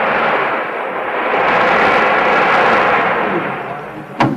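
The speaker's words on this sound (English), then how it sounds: "Storm at sea." A radio studio storm-at-sea effect made with BB shots and a drum head: a continuous broadband roar like wind-driven waves crashing, steady and loud throughout, ending with a sharp rattling burst.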